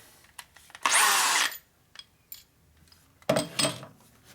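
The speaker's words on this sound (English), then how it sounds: "Yeah, this drill is just not hard enough" Two loud bursts of a power drill grinding into metal on a Harley chopper, a short pause between them, with faint clicks and handling noises in the gaps.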